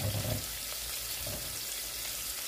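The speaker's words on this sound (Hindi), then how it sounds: "अब मैं तो बस कुछ ठंडे पानी से धो लेती हूँ ताकि वो चिपके ना।" Cold tap water running steadily over cooked macaroni in a kitchen sink, a constant close hiss and splash with no voices.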